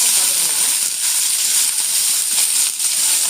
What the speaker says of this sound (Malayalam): ഇനി നമുക്ക് ഇതിലേക്ക് സവോള ഇടാതെ കടുക് പൊട്ടിച്ച്